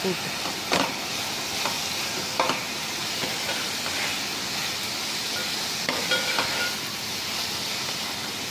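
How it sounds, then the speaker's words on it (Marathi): Roasted dry coconut paste sautés in a pan for a Marathi fish curry, giving a soft, steady sizzle with occasional scraping clicks from stirring. "आणि चांगलं परतून घ्यायचं आहे."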